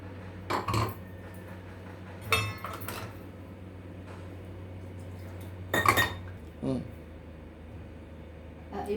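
Dishes and cutlery clink as finely ground soaked moong dal batter is transferred into a bowl in a kitchen, with a few separate knocks and scrapes of metal and glass spaced across the scene against a steady low hum.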